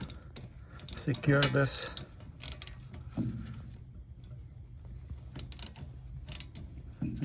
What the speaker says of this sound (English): tighten it up, because we're going to torque it to 25 foot-pound